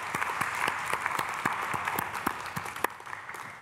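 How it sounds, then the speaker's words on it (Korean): Church congregation applauding the pastor at a Sunday worship service, a sustained crowd of hands clapping with a faint rhythmic pulse of sharper claps, steady and fairly close throughout. "오늘 우리 신 목사님에게 박수."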